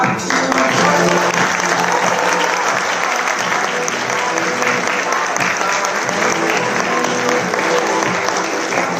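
At a Mahavir Jayanti celebration, an audience breaks into sustained applause for two ladies after a song. The clapping is loud, dense and continuous, with faint crowd murmur underneath.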